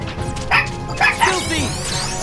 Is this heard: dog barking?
yes